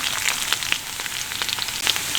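Potatoes sizzle steadily in a hot pan, with small crackles and pops scattered through the frying.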